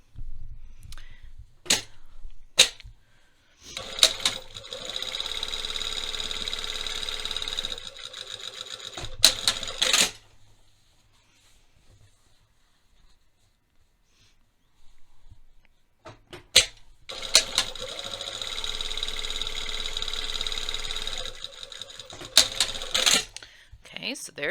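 A sewing machine stitches back welt pockets on trousers at a 2.5 mm stitch length in two sustained bursts of rapid whirring, each about six seconds long, with clicks and quiet pauses between them and a voice speaking briefly.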